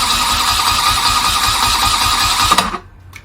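A BMW R80/7 motorcycle engine idling steadily after a fresh oil change, a close, even running hum that cuts off abruptly near the end, leaving near silence.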